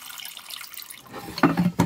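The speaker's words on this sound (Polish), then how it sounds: "Dolewamy do miseczki wody." Water poured into a small bowl at an animal-breeding farm, a quiet hiss followed by two short, close splashing bursts of pouring.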